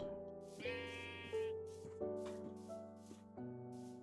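Sheep bleating in the video game Minecraft, a string of several synthetic, nasal bleats in quick succession, fairly loud and close with no talking.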